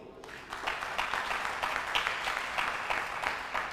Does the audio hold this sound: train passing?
no